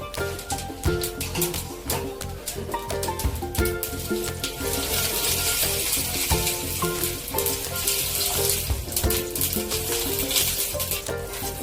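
Cumin and mustard seeds with asafoetida crackle and sizzle loudly in hot oil in a pan for a Bengali onion curry, a dense, steady, close frying hiss with rapid popping throughout.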